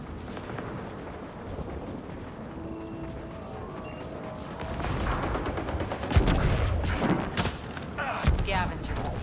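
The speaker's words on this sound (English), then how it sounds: "I hear gunfire." Bursts of gunfire crackle and thump in a busy Mass Effect Andromeda game soundscape, growing louder and denser toward the end, with talk over it.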